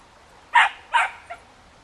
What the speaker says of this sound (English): Oh, I hear other dogs barking.